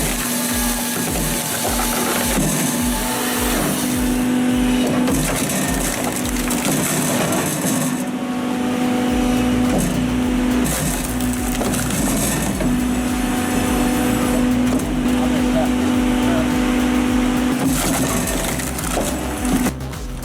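A VSP 60.60 combined firewood processor splits logs in a steady, loud run of mechanical clanks and thumps over a continuous hum, with no talking.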